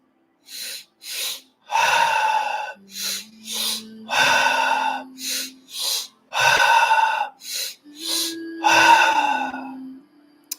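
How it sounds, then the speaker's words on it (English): Breathwork practice of the shaman breath: a quick two-part inhale followed by a full exhale, repeated in close, loud bursts with short pauses between, over a soft sustained tone. "a breath where you breathe in halfway, but quickly breathe in the rest of the way and then let it out. It's called the shaman breath"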